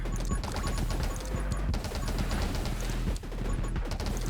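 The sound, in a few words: fire cannon shooting in video game 20 Minutes Till Dawn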